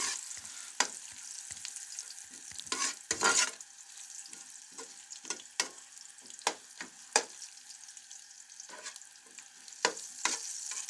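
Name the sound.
frying while cooking sheer khorma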